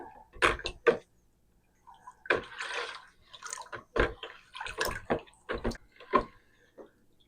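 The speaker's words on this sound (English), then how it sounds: "And then we're just going to stir this up until it gets dissolved." Powder being stirred into a gallon of distilled water makes bursts of sloshing and swirling, with knocks against the container, coming in uneven waves with short pauses between, close and fairly quiet.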